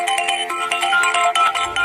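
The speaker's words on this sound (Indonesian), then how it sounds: "Ini tampaknya ada yang telepon lagi." A telephone ringtone plays loudly and alone for about two seconds, a repeating bright electronic melody signalling an incoming call.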